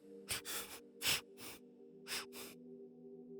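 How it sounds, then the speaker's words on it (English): A child sniffles in several short, breathy bursts in quick succession, close and fairly soft, with a faint steady hum underneath and no talking. "SCP-2241 sniffling."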